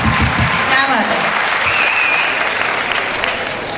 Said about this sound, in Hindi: एक बार जोरदार तालियां वहां तक